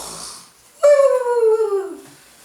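A person mimics a bear snoring with a single loud, drawn-out nasal rasp, a wheezy tone that slides slowly downward over about a second and a half, close and alone after a brief quiet breath.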